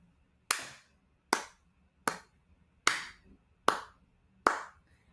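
Six sharp hand claps ring out one at a time at a steady, moderate pace, about three-quarters of a second apart, each crisp and near with a short decay into a quiet room, beating out a three-four pulse.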